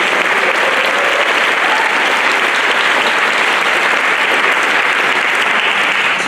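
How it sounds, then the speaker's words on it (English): An audience at a high school vocal jazz concert applauds Towson High School with loud, dense, sustained clapping that fills the room evenly and steadily from start to finish, without any speech over it. "Can we give a round of applause to Towson High School?"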